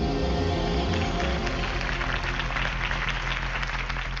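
Crowd applause after a campaign speech in the Batman Telltale video game, a dense continuous patter of clapping at moderate level under a low steady musical hum, lasting a few seconds without letting up.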